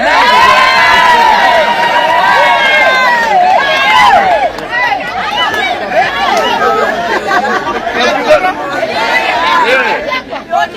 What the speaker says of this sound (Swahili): Hao mama ambao wanashangilia